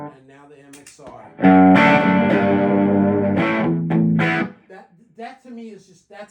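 A sustained electric guitar chord, effected by an MXR pedal, swells and rings for a few seconds, with brief speech before and after.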